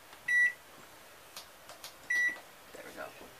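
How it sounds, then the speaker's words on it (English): Microwave oven giving two sharp electronic beeps about two seconds apart while its clock is set, with faint button presses and a little soft household talk between them. "I should set this one. The microwave."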